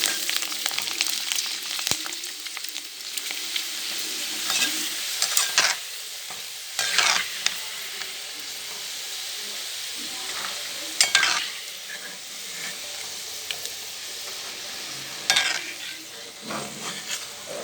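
Hot oil sizzles steadily as papad fry, with occasional louder bursts of crackling and scraping from stirring in the pan.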